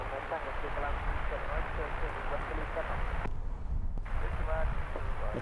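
Qantas A380 airliner at Heathrow Airport, a constant broad roar of jet engine noise, steady and fairly loud throughout, with a speaking voice over it and one brief dropout.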